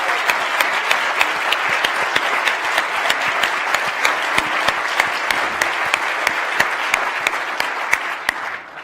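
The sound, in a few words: lecture audience applause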